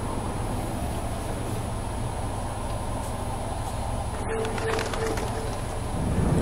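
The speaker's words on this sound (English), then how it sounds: "Damn bird already starting." Pigeon or dove coos low and soft beneath steady broadband background noise, a faint repeated call rising briefly toward the end.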